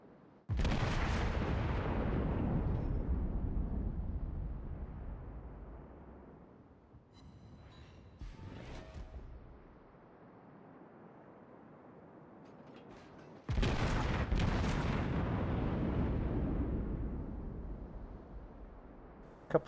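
Naval gun salvos fired by a Fuso battleship in a naval warfare video game, two heavy booming volleys several seconds apart, each with a long rumbling decay, and quieter mechanical clatter between them.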